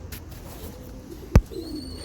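Kulbacki breed pigeons coo softly, a low murmur under quiet background with one sharp knock or clap near the end, close and without voices.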